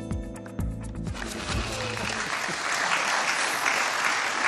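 A studio audience at a German TV talk show breaks into applause after a brief voice, the clapping swelling into a dense, sustained wash of many hands.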